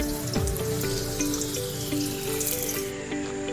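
Onion and garlic sautéing in vegetable oil for pancit miki, giving a steady, dense sizzle that crackles evenly throughout, close and continuous with a few utensil clinks.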